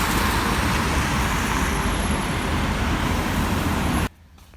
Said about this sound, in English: It's a busy traffic light, as you can see.